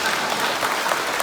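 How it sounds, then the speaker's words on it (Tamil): Dense applause from an audience seated at a public event, a steady wash of many hands clapping at once that runs evenly through the whole clip. "சொற்களின் பேச்சு பிடித்திருந்தால் கைத்தட்டுங்கள்"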